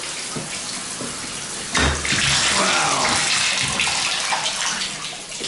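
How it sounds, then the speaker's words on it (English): A shower runs with strong water pressure, a steady loud hiss of spray splashing and draining in a house bathroom, briefly intensifying partway through; a voice exclaims once. "you've got good water pressure and it's draining nicely"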